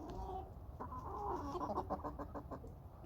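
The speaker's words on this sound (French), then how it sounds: "Et voilà, encore une poule." Hen clucking close by in a farmyard, a run of short rhythmic clucks rising into a quick burst of chattering notes, fairly faint, no talking.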